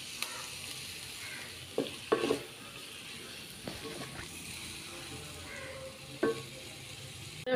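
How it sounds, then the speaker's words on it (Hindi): Prawns frying in a pan for Goan pulao: a steady sizzle runs throughout, with occasional clinks and scrapes of stirring. "ती मातशें फ्राय कोता."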